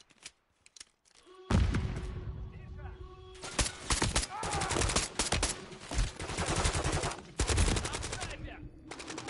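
Gunfire in the video game Modern Warfare 3: bursts of rapid shots and sharp single cracks, loud and close, coming in clusters over several seconds with brief pauses between them.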